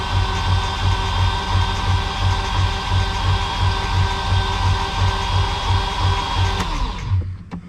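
A loud, steady Audi engine runs throughout with a faint repeating knock on each cycle, then cuts off abruptly near the end.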